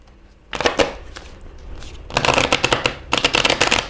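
Crisp riffling bursts of tarot cards being shuffled close up, a short flurry, a pause with a few taps, then two longer rapid shuffles.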